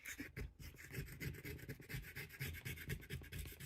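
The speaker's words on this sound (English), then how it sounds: "it like scrapes off super easy" Dried paint scraped off a Dollar Tree Valentine's craft piece gives a quiet, close, rhythmic rasping, with short repeated strokes and no talking.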